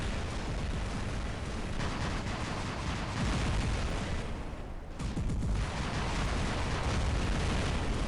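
Rockets and missiles firing in the War Robots video game: a dense, continuous barrage of explosive blasts and bursts with a brief lull midway, loud and steady throughout, with no talking.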